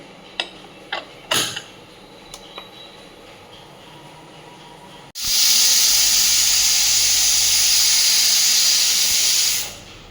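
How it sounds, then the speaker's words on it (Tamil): A few faint clicks and taps, then a sudden loud, steady hiss of steam escaping from a pressure cooker whistle that holds for about four seconds before cutting off. "குக்கர் விசில் வந்துருச்சு."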